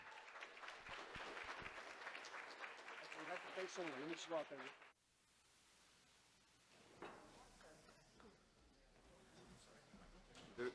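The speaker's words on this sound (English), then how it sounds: "All right, ladies and gentlemen, round of applause one more time for the best man" Wedding guests clap for the best man during the toasts, a burst of applause lasting about five seconds before cutting off, followed by quiet room sounds and a voice speaking softly.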